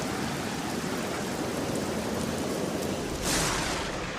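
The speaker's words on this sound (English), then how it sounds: "By midnight, the rain began, and it was a deluge." Heavy rain pours down in a steady, dense wash of noise, with a brief louder surge near the end, and no voices.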